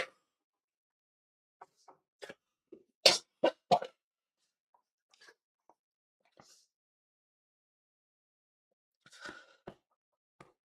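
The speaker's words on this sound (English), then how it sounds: "So my coughing is just worse than ever at the moment." Sharp, separate bursts of coughing and throat noises come in quick clusters between stretches of silence, close and fairly loud.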